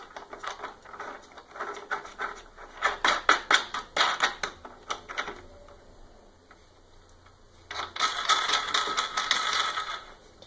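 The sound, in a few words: fastening nut on screw, 3D printer Y axis bearing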